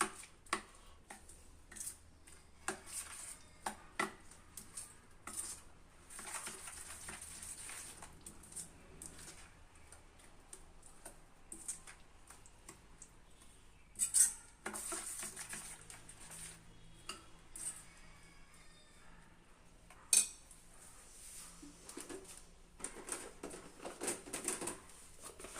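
Rava batter ingredients, including coriander powder, are mixed in a bowl, giving soft, irregular clinks and taps of a spoon against the bowl with quiet patches in between, fairly faint and close, without speech.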